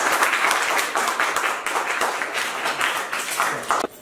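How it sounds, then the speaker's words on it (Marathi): A group of classmates applaud a boy named Ganya, brisk dense clapping from several people that runs steadily for a few seconds, close by and alone without talk. "गण्यासाठी सर्वांनी टाळ्या वाजवा रे"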